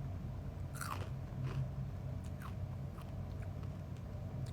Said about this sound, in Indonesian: Makan jagung.